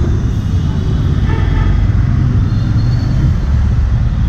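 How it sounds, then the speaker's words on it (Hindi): Dense Mumbai road traffic, a steady loud wash of engine rumble and road noise with no pauses, vehicles crowded close around. "क्या ट्रैफिक है भाई"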